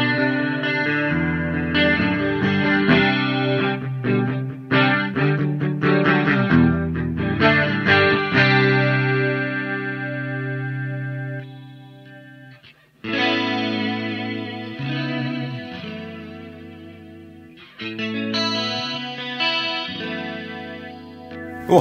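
A Laney Black Country Custom Spiral Array chorus pedal colours an electric guitar, which plays strummed chord passages with shimmering modulation, letting notes ring out and pausing briefly before resuming, close and steady, with no voices over it.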